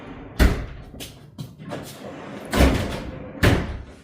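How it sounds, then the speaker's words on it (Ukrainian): A shower enclosure door with aluminium profiles and a magnetic catch, VERONIS BN-3-120, swings shut. Three sharp, close thuds land about a second apart, with softer knocks between them. "Двері закриваються за допомогою магнітного відбивача."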